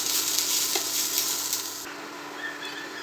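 Crushed ginger, garlic, green chili and cumin with onion sizzling steadily in hot oil for a village-style potato roast, a loud continuous frying hiss with stirring that eases slightly partway through.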